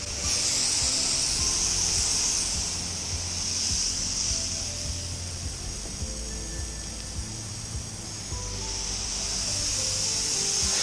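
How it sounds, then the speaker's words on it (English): Steady high-pitched spray hiss as chemical is sprayed onto a rendered wall of a three-storey commercial building, loud and continuous, easing slightly mid-way before building again, with a low rumbling hum underneath. "we're going to start spraying up, and we've got the chemical ready to roll here"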